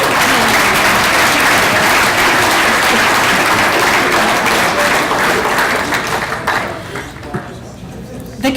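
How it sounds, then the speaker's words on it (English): Loud audience applause at a university athletics awards banquet, a dense sustained roar of clapping that fades out over the last couple of seconds, with crowd chatter mixed in. "Round of applause."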